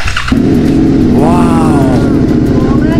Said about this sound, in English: sa electric starter natin siya is one-click start lang siya.